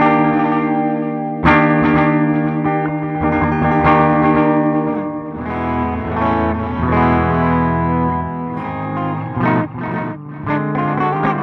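An electric guitar plays through the reverse delay effect of a Line 6 POD Go, its notes swelling backwards into smeared, echoing, chorus-like repeats with some distortion, loud and close.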